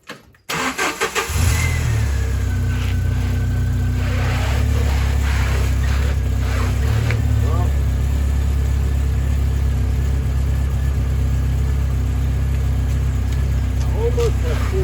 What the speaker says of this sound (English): let's turn on the engine and let's see if this is going to be a problem or not.